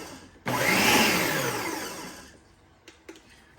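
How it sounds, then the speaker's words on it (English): Carrot salad stirred together with crushed pineapple, a loud close whirring mixer-like burst lasting about two seconds that fades out, followed by a few faint clicks. "Now we're just going to mix that a little bit"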